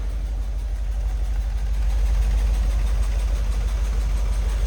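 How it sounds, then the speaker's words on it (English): A 1975 Chevrolet Corvette convertible with a mild performance cam sits idling, its engine producing a steady, low, slightly lumpy rumble that stays close and even throughout with no talking. "Engine does have a slight cam to it though. A little bit of a rumble."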